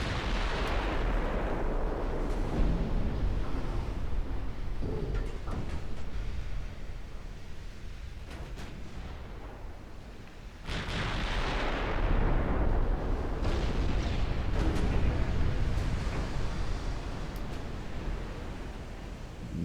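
Naval guns firing and shells striking a ship in a strategy game, with deep booming artillery rolls and rumbling impacts, two heavy surges of sustained fire, moderately loud and without voices.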